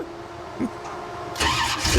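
The Grave Digger monster truck's engine cranks and catches, a low rumble swelling into a loud, rough roar within a couple of seconds, heard close up.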